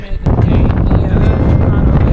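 Heavy low buffeting rumble of mountain wind hitting the microphone while climbing Mount Lafayette, New Hampshire, gusting continuously with a few brief crackles.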